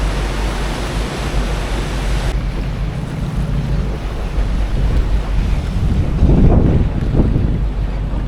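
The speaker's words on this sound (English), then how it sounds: "Pretty wet and wild and windy day today." Strong wind buffets a boat out on the open sea on a wet, stormy day, with loud continuous roaring gusts and waves surging and slapping against the hull, no voices.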